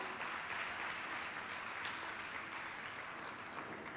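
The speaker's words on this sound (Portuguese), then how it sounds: "Aplauda o nome de Jesus." Soft, distant applause from a church congregation during a communion service, a steady even patter lasting several seconds with no voices over it.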